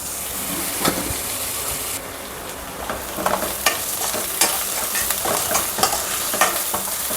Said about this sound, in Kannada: ಇವಾಗ ನೋಡಿ ಈರುಳ್ಳಿ ಚೆನ್ನಾಗಿ ಫ್ರೈ ಆಗಿದೆ.